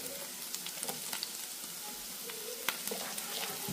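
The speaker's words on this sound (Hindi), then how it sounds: "ये प्याज हमारा सॉटे हो चुका है तो अब हम इसमें चॉप की हुई ग्रीन मिर्चें शामिल करते हैं।" Onions and chopped green chillies sautéing in a pan for stuffed chicken buns, a steady close sizzle and crackle with scattered pops and stirring clicks throughout, no voices.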